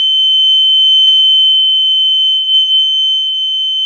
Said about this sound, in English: you're going to hear an annoying loud beep from the siren